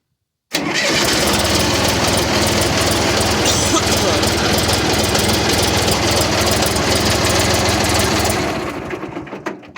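A John Deere 350B dozer's diesel engine fires up abruptly and runs loud and steady close by, then fades as it shuts down near the end.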